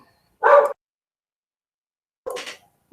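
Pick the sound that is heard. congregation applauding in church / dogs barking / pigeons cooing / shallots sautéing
dogs barking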